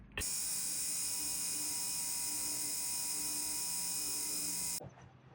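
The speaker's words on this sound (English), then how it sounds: "We're polishing the piece. We're going to be going around the edge." A rotary tool polishes around the edge of a turquoise bracelet, making a steady high-pitched whine that runs for about five seconds at close range and then cuts off.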